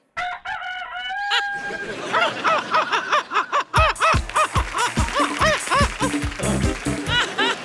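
A voice imitates a rooster crowing in a long, wavering cock-a-doodle-doo, loud and close, with bursts of clucking and other vocal noises following.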